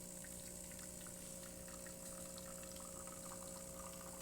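A DeLonghi Magnifica espresso machine, after a full service tune-up, has its pump running steadily while brewing a shot: a continuous, even vibrating hum with a watery rush, close and unbroken throughout.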